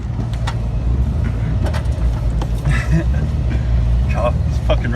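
A Suzuki Vitara accelerates hard through mud at the Mudmunchers 4x4 off-road event in Freethorpe. Its engine gives a steady, loud, low rumble throughout, with people talking over it.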